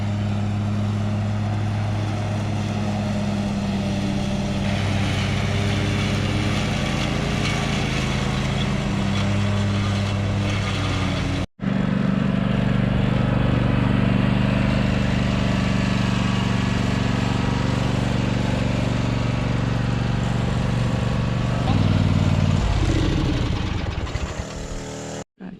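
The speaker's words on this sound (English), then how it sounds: "the mower's doing so well." A Gravely zero-turn lawn mower cuts grass with a loud, steady engine drone, holding continuous throughout apart from one brief break, then shifting pitch near the end as the throttle changes.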